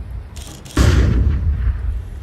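A flashbang grenade goes off in a video game: a short metallic clatter precedes a sudden loud, deep boom that lingers as a rumbling roar, heard alone at close range.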